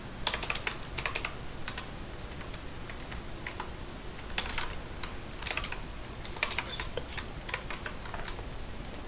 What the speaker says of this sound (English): So I'm going to put a password.